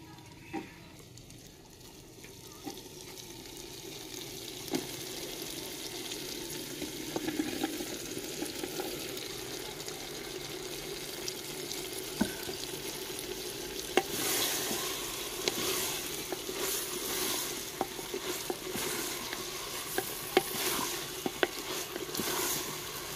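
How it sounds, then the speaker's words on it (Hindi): Potatoes added to mixed vegetables frying in a pan for a village-style mixed veg sabzi, a continuous sizzle that grows louder and busier partway through, with scattered clicks and stirring scrapes. "अब हम आलू शामिल कर देंगे।"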